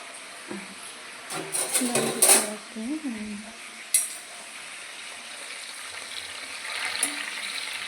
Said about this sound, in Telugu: ఇవి బాగా ఇట్లా ఫ్రై అయితే డీప్ ఫ్రై చేసి ఇవి బాగా వేయించాలి